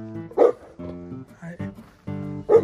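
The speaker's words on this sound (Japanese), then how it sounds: "番犬そんなに頑張らなくていいよ、 そんなに泣かなくもいいから日向ぼっこしてなさい" A Great Pyrenees guard dog gives a few short, sharp barks at the start and end, with whiny, harmonic vocal sounds between them, fairly close and loud.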